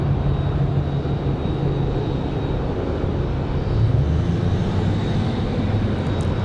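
Airliner departing Raleigh-Durham International Airport, a loud steady engine roar and rumble filling the whole stretch with no pauses.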